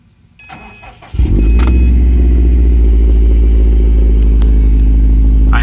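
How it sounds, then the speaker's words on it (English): A 2012 Subaru Impreza WRX STI engine cranks briefly on a cold start, catches, and settles into a loud, steady idle rumble that continues to the end. "I'll do a quick cold start here."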